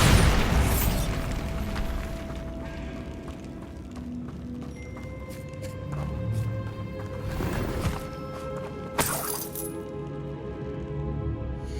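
The Bombarda explosion spell in Hogwarts Legacy on PS5 opens with a loud booming blast, then game ambience with ringing tones and another sharp burst later on.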